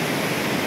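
Strong rushing water at Bolinao falls roars as a loud, dense, unbroken wash of white noise, close and alone for a brief moment.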